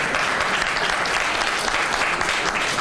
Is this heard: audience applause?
yes